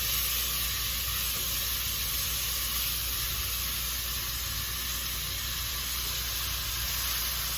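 Tomatoes, onions and jalapenos sizzle steadily in a hot pan for Mexican rice, with a constant bright frying hiss that stays even throughout and has no talk over it.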